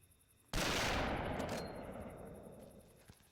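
A single loud rifle shot from Cabela's African Safari cracks out near and sharp, its roar and echo decaying over a few seconds.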